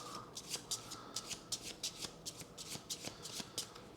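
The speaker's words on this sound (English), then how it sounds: "I have shuffled, but we'll just do it again just in case." A deck of game cards for a cooperative board game is riffled and shuffled by hand up close, a quick rhythmic run of soft papery flutters and snaps, quiet and without talk.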